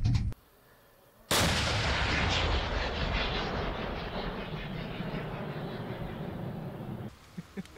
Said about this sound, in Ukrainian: Другий постріл.